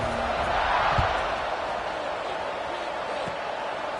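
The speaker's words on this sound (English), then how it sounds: "this crowd is buzzing after that last score" Steady crowd buzz fills an American football video game stadium after a score, a broad continuous roar with a slight swell near the start, running alone throughout.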